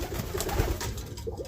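Roller pigeons, kit birds, coo inside a loft in a low, steady, murmuring burble that carries through the whole stretch at moderate volume, with no one talking.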